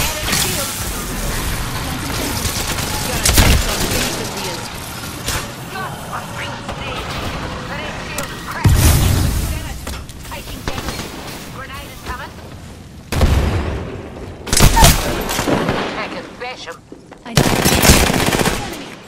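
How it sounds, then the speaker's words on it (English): Apex Legends gunfire: sustained loud automatic bursts and heavy booms in repeated waves across the clip, with people talking underneath the shooting. "Shots fired!"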